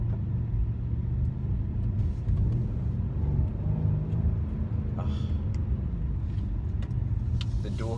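A Mercedes C63S AMG with a dual-clutch transmission pulls away and accelerates, its engine a deep, steady rumble heard from inside the cabin with a few faint clicks, and no talking.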